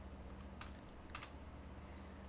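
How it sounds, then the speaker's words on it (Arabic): Soft keystrokes on a computer keyboard while C code is typed, a few brief quiet clicks in scattered clusters over a steady low background hum. "هبدأ أكتب الكود السي بداية بإضافة include library"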